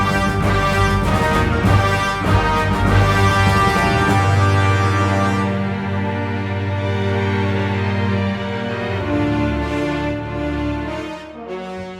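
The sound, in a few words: orchestral re-recording of the TIE Fighter video game MIDI score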